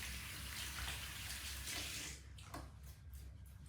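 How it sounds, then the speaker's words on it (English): Tap water runs in a sink as hands are washed, a faint steady splashing hiss that thins after a couple of seconds into softer trickling and drips, with no talk. "And wash thoroughly."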